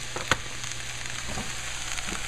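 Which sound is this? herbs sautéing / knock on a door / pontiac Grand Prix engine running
herbs sautéing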